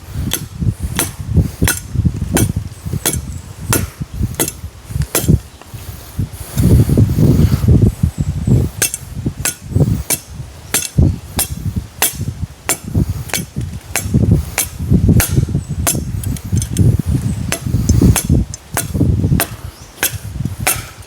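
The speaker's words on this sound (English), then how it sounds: "Good thing I sharpened my machete before I left, because this tree is super hard." A sharpened machete strikes a very hard coconut tree trunk, hardwood-like near the base, in sharp, close, evenly paced chops that continue throughout, with rustling between blows.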